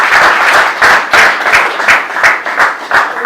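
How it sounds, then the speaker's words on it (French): A student audience at a public question session bursts into loud, close applause, many hands clapping with an audible pulsing rhythm that surges in waves throughout, crowd noise mixed in. "Sur vos applaudissements"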